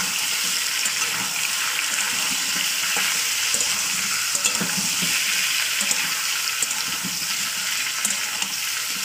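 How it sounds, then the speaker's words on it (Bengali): Half a kilo of chicken frying in hot oil, with a dense, loud, unbroken sizzle up close and soft scrapes from stirring scattered throughout. "এটাকে দিয়ে আবার একটু কষিয়ে নেবো তেলের উপরে।"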